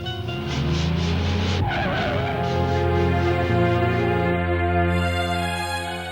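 A car driving with a steady, loud engine drone and rising tonal whine, plus a brief tire-squeal-like screech partway through, continuous and close throughout.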